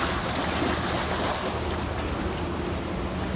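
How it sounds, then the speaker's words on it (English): Water roaring through a canal at Arizona Falls on Indian School Road, a steady broadband rush of churning, falling water with continuous loud roar and no talking. "You can hear the water underneath this great roaring."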